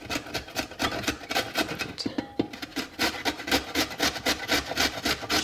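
Small beets with their tops left on are grated on a box grater, producing rapid rhythmic rasping strokes up close, loud and continuous with no talking.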